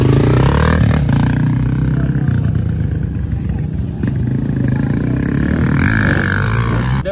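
Honda CRF 250F dirt bike lapping a motocross track, its engine roaring loud and close throughout, with steady throttle and slight rises and dips in revs.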